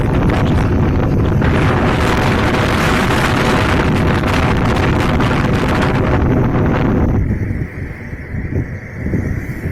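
Strong storm wind roars loudly and continuously across an open, deserted village during a cyclone, gusting steadily before easing slightly near the end.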